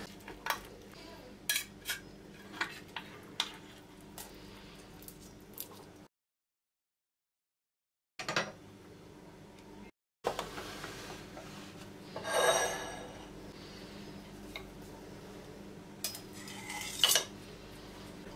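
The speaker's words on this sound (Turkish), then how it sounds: "Çatalla ne kadar çıtır çıtır olduğunu da duyuyorsunuz." A fork scraping and cutting through crispy, syrup-soaked burma dessert, making faint close crunches and clinks against a plate with short gaps of silence and no talking.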